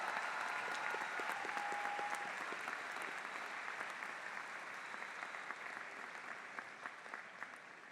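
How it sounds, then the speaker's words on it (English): Sustained audience applause at a James Madison University graduate school commencement ceremony in May 2019, a dense, even wash of many hands clapping that stays strong throughout and eases off slightly toward the end. "let's give your parents, families, and friends in the audience a round of applause"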